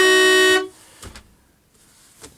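A Volvo 670 truck's big horn blares loud and steady for about half a second, a rich harmonic blast from inside the cab, followed by faint clicks and near silence.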